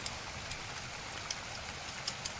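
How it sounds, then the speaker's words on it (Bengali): A dense, steady hiss of heavy rain falls continuously, with occasional sharper drop taps standing out. "দেখুন কত জোরে বৃষ্টি পড়ছে"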